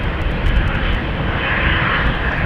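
Embraer 175 jet rolling down the runway for takeoff at Amsterdam Schiphol, a loud continuous engine roar that swells slightly, heard alone without speech.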